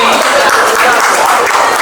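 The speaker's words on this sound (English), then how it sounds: "Please, a round of applause for him." An audience at a celebration gives a round of applause, a loud, dense wash of many hands clapping steadily throughout the short moment.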